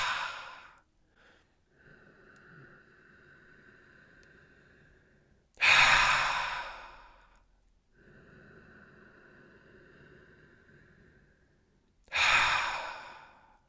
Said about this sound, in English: pull a breath from the base of the belly to the top of the lungs, a full belly breath